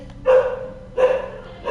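A dog gives two loud, close barks about half a second apart, alone with no other sound.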